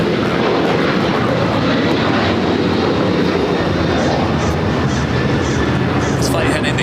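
A heavy airliner takes off at Los Angeles International Airport, its jet engines roaring loud and steady throughout, the broad rumble swelling slightly as it climbs out.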